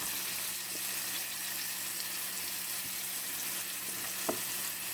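Shrimp sizzle steadily in hot oil, a bright continuous crackle and hiss, with a faint tap of a utensil near the end.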